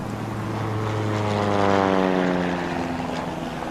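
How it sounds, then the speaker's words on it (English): A propeller airplane flies overhead in open country, its droning engine steady and fairly loud with a slowly shifting pitch as it passes, heard alone. "that plane you hear up ahead"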